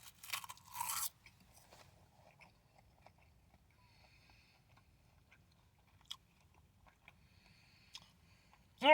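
Someone eats a teriyaki-flavored roasted seaweed snack. A sharp crunch at the start gives way to faint, close chewing and small mouth clicks in a quiet room, ending with another crisp bite.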